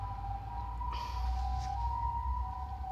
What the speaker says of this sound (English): so I get sirens all the time